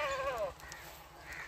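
A goat gives one wavering bleat close by on a farm, with faint background noise afterward.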